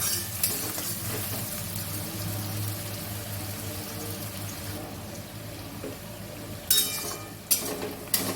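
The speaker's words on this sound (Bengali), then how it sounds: "বাটার আর তেল দিয়ে পেঁয়াজটা ভাজবো।" Chopped onions frying in butter and oil for a chicken biryani, a steady close sizzle and hiss with a few sharper crackles near the end, no talk.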